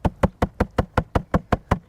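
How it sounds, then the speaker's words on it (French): Eleven sharp, evenly spaced taps on a mesh to dislodge crushed corn, in quick succession, each a crisp knock on a light surface, close and fairly loud. "Je tapote pour faire descendre tout ce qui est collé dans les mailles."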